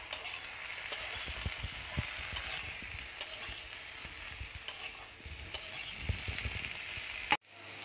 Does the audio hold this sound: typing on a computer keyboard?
no